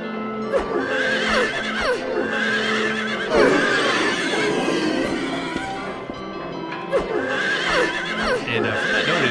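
Horses neighing in Silent Hill 3, several loud whinnies in succession over a dense, noisy background, with repeated neighs rising and falling throughout.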